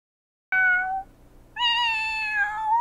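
A cat meows twice in The Sims 4 game, a short high call followed by a longer, louder, wavering meow, clear and close with no talking.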